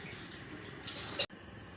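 Water poured into a large pot of rice for chana pulao, a continuous splashing gush that swells briefly and then cuts off abruptly.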